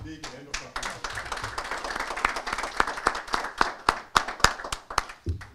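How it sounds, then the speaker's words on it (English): A small group at a Turkish-Zimbabwean ministerial press event gives a round of applause, scattered claps that build into sharp, rhythmic near hand claps before trailing off, with a voice starting at the end. "Maybe a big hand of applause."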